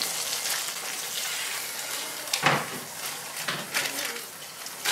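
A smash burger patty and strips of bacon sizzle on a hot surface at breakfast, a steady close crackle with a few louder spits and pops scattered through it.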